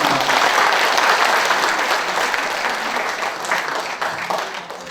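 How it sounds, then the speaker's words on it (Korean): Audience applause fills a founding ceremony for the Yangsan History and Culture Promotion Institute, a loud, dense clapping that holds steady for the whole stretch and eases slightly toward the end. "다시 한번 뜨거운 박수 부탁드리겠습니다"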